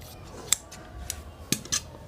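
Scissors snip through blouse lace fabric in a quiet room, with a few sharp, isolated cuts spaced irregularly, faint and close.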